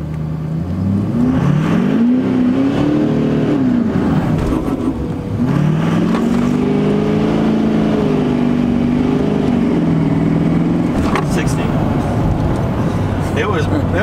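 A boosted Duramax diesel truck launches hard and revs, its loud engine note climbing and falling through two long pulls with some tire noise, close and continuous, while voices are heard faintly inside the cab.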